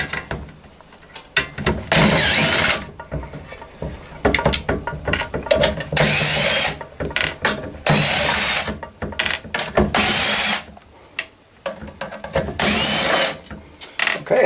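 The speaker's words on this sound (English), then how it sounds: "we're going to pull these ones off here. Let's do that with the screwdriver" A power screwdriver backs screws out of a Coleman DGAT furnace combustion motor in several loud whirring bursts of a few seconds each, separated by brief pauses and clicks, up close with no talking.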